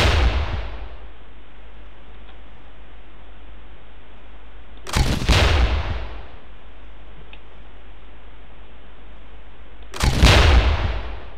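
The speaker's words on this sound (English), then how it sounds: "Press the fire key to launch a grenade." Ghost Recon grenade launcher on a training range: three evenly spaced firing blasts, each a loud sharp explosive burst with a short decaying tail, separated by quiet hiss.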